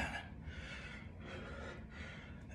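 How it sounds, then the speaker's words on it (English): A person exhales during a tiptoe shrug exercise in a home workout, with three soft, airy breaths pulsing in a steady rhythm, close and fairly quiet. "Tiptoe shrug and exhale"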